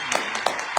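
Hand clapping, three quick, close claps in a short even rhythm.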